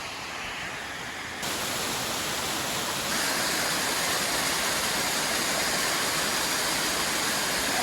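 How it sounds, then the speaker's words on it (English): Steady, dense rushing water of a waterfall on the Appalachian Trail in New Hampshire roars continuously, growing slightly louder partway through, with no voices over it. "Waterfall's way up there."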